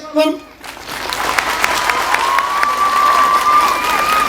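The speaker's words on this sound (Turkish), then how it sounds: "Burada hep birlikte Sivas'a, Güçlü bir alkış" Concert audience at a Turkish folk music event in Maltepe applauding and cheering, a steady wash of clapping and crowd noise building after a brief voice at the start, with whistles rising over the clapping.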